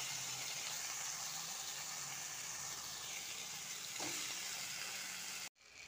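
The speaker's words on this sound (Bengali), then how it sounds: "ফোড়নটা হয়ে গেছে, এবারে আমি সবজিগুলোকে এখানে দিয়ে দেবো।" Vegetables frying in a pan of hot tempered oil, a steady close sizzle throughout with a brief stir near the end, then a short cut to silence.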